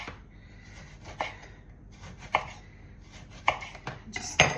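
A knife slices through an orange on a cutting board, giving five crisp chopping cuts spaced about a second apart and growing a little louder toward the end, with no talking.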